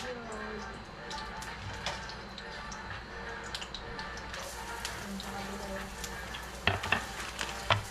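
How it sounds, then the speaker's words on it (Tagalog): Chicharon (pork rinds) fry in a pan in a home kitchen, giving a steady close sizzle and crackle throughout, with a few sharper pops and stirring near the end. "Tayo po magluluto ng chicharon."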